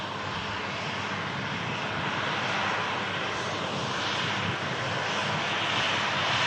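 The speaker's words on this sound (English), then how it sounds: "One Ryanair arrives as one Ryanair climbs out" Ryanair airliner engines roar at an airport runway, a loud, steady, broadband jet rumble that swells slightly and holds without pause.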